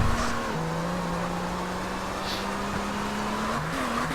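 A video game car rolls over grass on a Polish roleplay server, a steady engine drone holding one low pitch with brief shifts near the start and end, alone and fairly loud.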